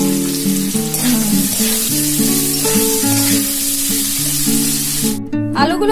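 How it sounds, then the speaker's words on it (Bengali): Potatoes seasoned with turmeric and salt fry in hot oil with a loud, continuous hiss, under melodic background music, ending in a brief crackling burst. "আলুগুলো লাল লাল ভাজা হয়ে গেছে,"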